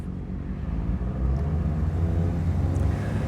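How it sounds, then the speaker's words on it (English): A car engine idles smoothly and quietly, a steady low, even rumble close by with no lumpiness or stalling, heard alone throughout. "Look at how nice this car idles. Nice and quiet."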